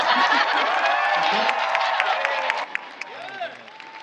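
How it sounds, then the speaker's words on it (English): A crowd applauds and cheers loudly, with whoops and whistles rising over dense clapping that thins out toward the end. "I want to do a very special round of applause for Mark's pants."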